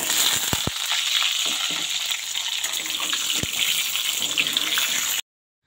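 Whole olives for a sweet-spicy oil pickle fry in hot oil with dried red chilli and spices, giving a continuous close sizzle with a few sharp pops before it abruptly stops.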